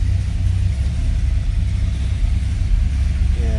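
A 1970 Pontiac Tempest engine running just after start-up, a loud steady low rumbling idle heard close, with slight swells in level throughout.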